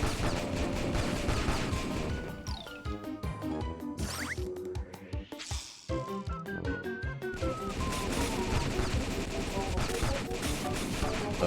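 Machine guns firing in the tower-defense game DeFenDin De Penguin, dense rapid bursts and crashing impacts over a steady game music bed, loud and continuous throughout.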